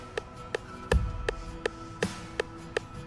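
A rim-click metronome from a worship backing-tracks app ticks at a steady, even tempo, about three sharp woody clicks per second, close and clean with one soft thud partway through.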